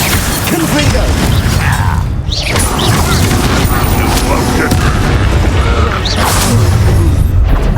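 A Confringo spell explosion in the video game Hogwarts Legacy, a loud, continuous, dense blast and rumble filling the whole stretch, with battle noise mixed in.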